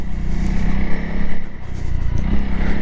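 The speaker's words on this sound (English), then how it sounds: "you are going to have to really get on that throttle, be quite aggressive, get those revs coming up as well" Honda CRF300L dual-purpose motorcycle engine held at steady, loud revs during off-road riding, a continuous buzzing drone with slight rises in throttle throughout, no talking.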